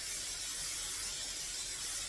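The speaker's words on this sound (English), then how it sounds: "So I'm going to spray the bottom of my pan." Cooking spray misted onto the bottom of a casserole pan, a faint, steady hiss lasting about two seconds with no break.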